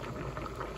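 A pot of Korean doenjang stew boils with a soft, continuous bubbling and gurgling, close and quiet, with no talking.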